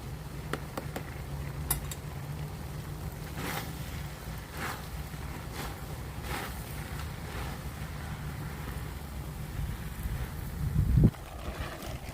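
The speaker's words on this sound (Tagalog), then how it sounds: "Ay, lakas ng hangin." Gusty wind buffeting outdoors with a low rumbling roar, scattered clatters and knocks, and a sharp thump near the end.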